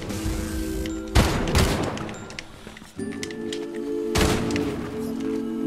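Shotgun blasts in Fortnite, a few sharp booming shots spaced seconds apart over steady background game noise, each with a short ringing tail.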